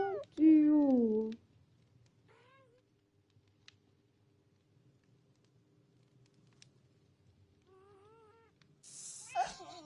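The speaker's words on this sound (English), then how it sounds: "These little meows are so cute." A cat gives a loud, close meow at the start, then quieter, softer meows follow later amid near silence.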